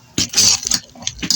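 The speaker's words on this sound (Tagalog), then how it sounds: "Halo lang ng halo." Sticky rice for biko being stirred in a pan with sugar. Soft scraping and patting strokes sound close up, brief and irregular, with no talking.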